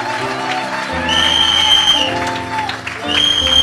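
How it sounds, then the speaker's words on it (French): A church congregation applauds and cheers for the Lord at a healing service, a steady crowd clapping over sustained keyboard or organ chords that swells midway and briefly dips before resuming. "Acclame mieux que ça pour le Seigneur"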